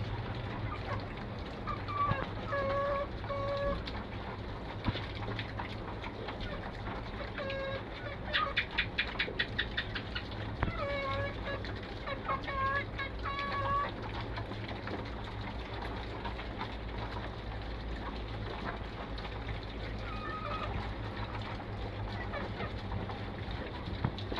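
Chickens cluck and chirp on and off over a steady, noisy background, with a brief flurry of sharper calls partway through.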